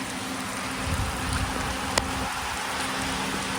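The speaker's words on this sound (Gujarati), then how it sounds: "વરસાદ તો ફૂલ આવે છે" Heavy monsoon rain pouring down where water has collected on the ground, a constant broad hiss of drops with a faint low rumble beneath and one sharp tick partway through, with no talking.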